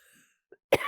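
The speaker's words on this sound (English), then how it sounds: "It's a weird allergy, isn't it, that I cough from" A woman coughs from an allergy, a quiet short throat-clearing sound followed by a sudden louder, harsh cough at the end, close to the microphone after near silence.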